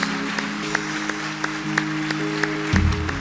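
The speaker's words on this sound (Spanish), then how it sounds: "Den un aplauso al Señor." A church conference audience applauds together, a steady wash of clapping that carries evenly through the room with a dull low hum underneath and a louder thump near the end.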